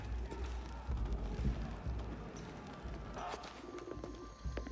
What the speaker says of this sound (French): Prenez ces pigeons voyageurs, par exemple.